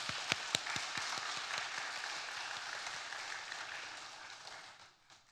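A congregation at a church service breaks into applause, opening with a few sharp individual claps before dense, sustained clapping from many hands settles and then tapers off at the end.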